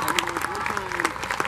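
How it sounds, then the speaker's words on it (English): Festival crowd applauding at the Resound Festival, steady clapping with scattered whoops that runs the whole moment, while a voice carries on talking over it. "Give them a round of applause"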